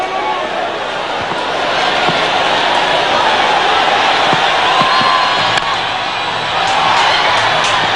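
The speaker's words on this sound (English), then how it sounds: "There's a real invasion of the ground here now, and they've snatched the stumps out of the ground." Cricket crowd at a 1999 one-day international in Georgetown, Guyana, surging onto the field after the match, a dense continuous roar of many voices with scattered shouts and thumps, loud and close, with a commentator talking over it.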